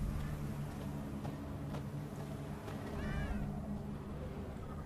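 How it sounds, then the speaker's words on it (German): A black cat in The Witcher 3: Hearts of Stone gives a couple of soft meows over steady game background ambience and music. "schwarze Katze"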